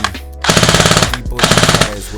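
An ASG G36 6mm airsoft AEG rifle fires full auto in two loud, close bursts of rapid, evenly spaced shots, each lasting about half a second to a second with a short pause between.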